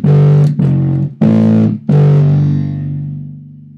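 Electric bass with distortion playing a 1-4-3 finger-pattern sequence: four loud, gritty plucked notes in succession, the last left ringing and fading slowly, close and solo.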